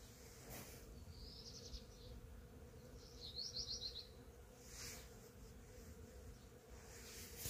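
Bees humming faintly and steadily among blooming cherry and peach trees in a backyard in Croatia, with a few distant bird chirps over the soft background drone.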